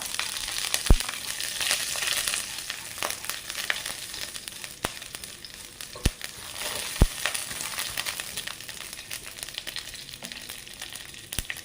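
Dried red chillies and mustard seeds frying in hot oil in a pan make a dense, continuous sizzle with scattered sharp pops and crackles throughout, close and fairly loud, with no speech.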